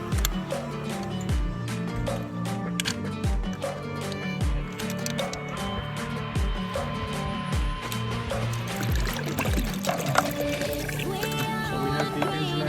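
Coolant pouring and splashing out while being flushed from a 2006-2016 Yamaha YZF-R6 engine, a continuous close liquid trickle with intermittent knocks and clinks from handling the parts.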